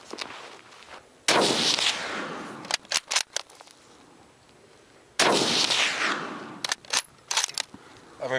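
A Mauser rifle fired from the prone position at an outdoor range: two loud, sharp gunshots several seconds apart, each followed by a ringing tail and quick mechanical clicks and clacks of the action being cycled.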